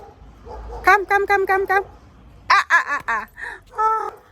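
Dogs bark in quick close-up runs, first a string of five or six sharp yaps, then a second cluster of barks and yelps after a short pause. The barks are loud and near, with no spoken words.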